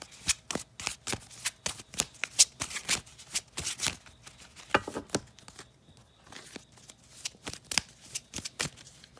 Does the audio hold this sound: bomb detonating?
no